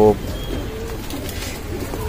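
Pigeons cooing close by in low, continuous throaty murmurs, with faint rustling in the background.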